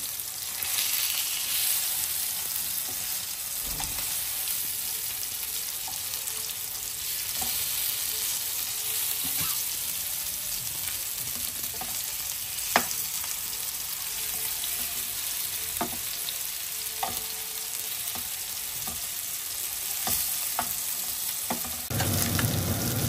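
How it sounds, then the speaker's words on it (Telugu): Fish frying in hot oil in a pan, a steady, dense hiss and crackle of sizzling throughout with occasional small pops and taps, close and continuous, without talking. "చేప బాగా వేగిపోయింది."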